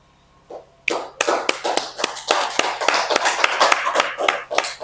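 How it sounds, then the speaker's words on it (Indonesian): A classroom group applauds students who have presented, with a burst of many hands clapping that starts after a faint tap and then goes on as dense, uneven clapping, fairly close and loud. "Kasih tepuk tangan dulu buat teman-teman yang sudah berani tampil ke depan"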